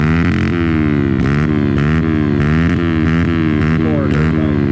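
A pit bike engine revs hard on a muddy hill climb on local trails, a loud, continuous buzzing drone whose pitch rises and falls in repeated surges throughout, with no talk over it.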